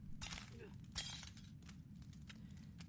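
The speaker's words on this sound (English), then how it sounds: "Barefooted sound of foot going into glass" A bare foot steps onto broken glass in the horror video game SAW, giving several quiet, sharp crunches and glassy crackles in quick bursts over a low background hum.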